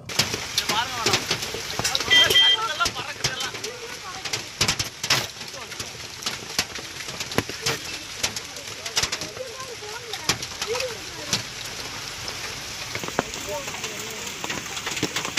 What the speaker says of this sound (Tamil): இன்று கரூரில் ஆலங்கட்டி மழை கொட்டியது